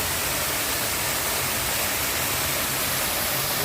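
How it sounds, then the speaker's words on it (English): A tall waterfall in woodland pours in a constant, loud hissing rush of white noise, steady and unbroken, with no speech. "And then there's the waterfall down there."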